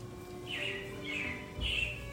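Recorded robin chirps as a show effect in the Carousel of Progress attraction: three faint, brief twittering bursts spaced evenly over a low background hum.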